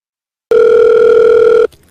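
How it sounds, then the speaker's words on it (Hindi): A phone call to a Hyundai car showroom rings out as a single loud, steady electronic tone lasting just over a second before cutting off. "रुकिए मैं अभी हुंडई के शोरूम में फोन करके पूछता हूँ।"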